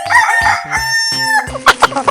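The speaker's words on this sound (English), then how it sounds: "Chicken." A cartoon chicken crows cock-a-doodle-doo in a 3D animal slide game, a loud, close burst of strutting clucks and a ringing crow, followed by a few sharp clucks, with no talking.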